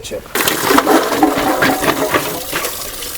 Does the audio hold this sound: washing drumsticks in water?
yes